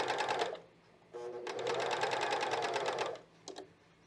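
A cover stitch machine sews fold over elastic, running in a short burst, pausing, then a longer steady whirring run of rapid stitches before a brief final tap, close and clear.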